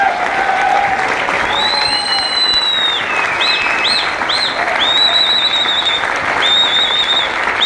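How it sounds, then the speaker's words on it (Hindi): Standing ovation applause from a seated audience at a direct-selling business meeting, dense and steady throughout with occasional whistles and cheers rising above the clapping. "मिस्टर विकास गुरु जी और दुबे गुरु जी के लिए मैं चाहता हूं एक बार खड़े होकर पुनः जोरदार तालियां, जोरदार तालियां, जोरदार तालियां।"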